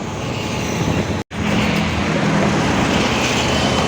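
Heavy road traffic crawling near the Attibele check post, a loud continuous roar of engines and tyres that cuts out for an instant, then resumes unchanged.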